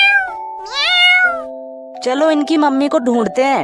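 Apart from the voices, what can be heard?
cartoon kittens meowing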